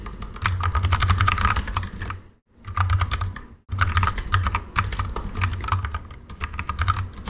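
Steady, rapid typing on a computer keyboard while entering a Flutter package description, dense clicking throughout with two brief pauses, close and fairly loud, no talk.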